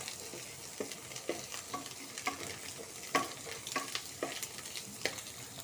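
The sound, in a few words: egg frying and being stirred in a pan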